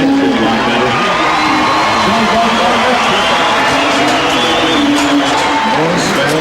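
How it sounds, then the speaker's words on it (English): A rodeo crowd at a 1991 Bull Riders Only event in Salt Lake City applauds and cheers for a bull rider, giving a dense, steady roar with whoops and shouts from a large arena, while a voice speaks over it. "I think a little more of your applause would make his life feel a lot better"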